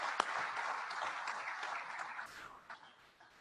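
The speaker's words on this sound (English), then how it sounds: "I think they deserve a round of applause for everything they do for our" Audience applause at a business awards event for fast-growing companies, a crowd of hands clapping together that holds steady and then thins and fades out toward the end.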